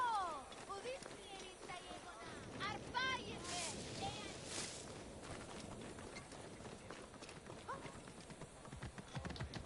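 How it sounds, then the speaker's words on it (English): A horse's hooves clip-clop at a running pace in Assassin's Creed Origins, steady rhythmic hoofbeats under crowd noise and game sounds, with voices talking over the top. "This fucking horse is a menace."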